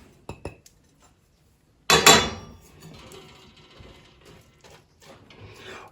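Chocolate and spice mix is stirred into a bowl, a burst of clinking and scraping after a couple of faint taps, then softer, intermittent stirring noises close by.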